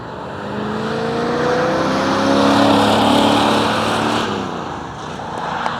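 A car engine approaches and passes close by, rising then fading in a steady drone with a gear shift near the end.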